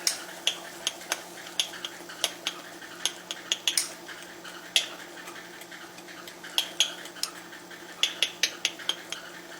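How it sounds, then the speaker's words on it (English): A pan of peanut brittle mixture with butter and baking soda just added is stirred, giving repeated sharp scraping and clinking strokes of a utensil against the pan over a soft background hiss, close and fairly quiet. "And we stir it up."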